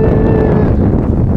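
Wind gusts across a scenic viewing bridge above a canal at a century-old riverside market, a loud, steady roaring rumble buffeting the microphone throughout, with no talk.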